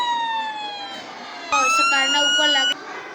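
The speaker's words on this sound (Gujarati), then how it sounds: "તમને સંભળાશે છે કે એમ્બ્યુલન્સની સાયરન સંભળાશે." A small speaker in a science-project model of an ambulance plays a wailing electronic siren, its pitch sweeping in loud, close cycles that jump briefly louder midway.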